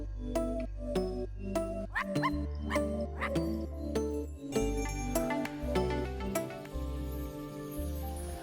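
Cartoonish dog barks and yips from the video game I Am Dead, a rapid run of sharp, loud woofs over a bouncy game music track, close and continuous throughout.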